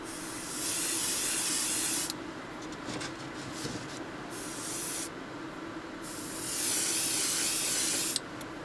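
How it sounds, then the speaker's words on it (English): Spray gun laying a clear gloss coat onto a Dinky Model 481 Ovaltine van, a steady close hiss in long bursts with short pauses between passes. "I'm going to put a coat of clear gloss onto the van, and this is just sprayed straight out the bottle"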